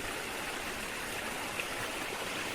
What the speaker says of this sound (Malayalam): ഉറവ വെള്ളമാണ് ഈ വെള്ളമാട്ടോ